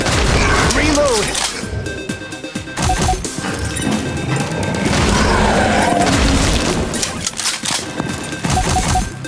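Loud, repeated explosive booms and crashes from grenade launcher fire in The House of the Dead Remake video game, dense and continuous under game music, with brief voice callouts mixed in.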